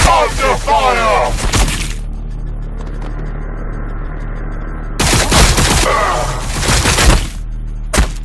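Gunfire and explosive blasts in the Warhammer 40,000: Battlesector strategy game, in two loud dense volleys separated by a quieter rumbling stretch, with voices calling out over the battle.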